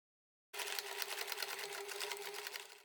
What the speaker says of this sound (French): Je couds l'ourlet de ma sangle.